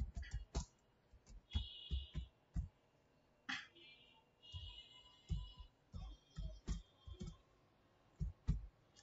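Someone types a website URL on a computer keyboard in a quiet room, producing close, irregular clusters of sharp key clicks with short pauses between bursts.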